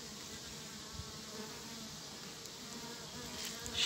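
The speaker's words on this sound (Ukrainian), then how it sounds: "О, сфокусувався на трутні. Такі от трутні тут. О, хлопці літають." Buckfast drone honeybees fly around a hive on a Dnipro river island, a dense, steady buzzing swarm drone close by, continuous throughout with no voices.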